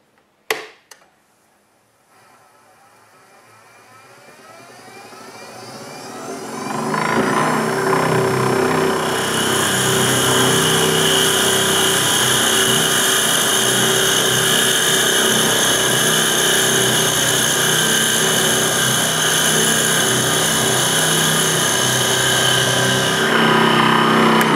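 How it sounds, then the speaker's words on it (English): Power drill with a half-inch bit boring a hole into a wooden wand on a lathe: the motor starts quietly, climbs for several seconds, then holds a loud, steady whine to the end. "So we're going to start with our half-inch and only drill in just long enough for the coupler."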